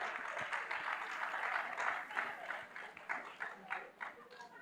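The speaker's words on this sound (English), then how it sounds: "let's give them a round of applause" Audience at a nursing and midwifery quiz event gives a round of applause, a broad crowd clapping that swells then thins into more scattered, rhythmic claps toward the end.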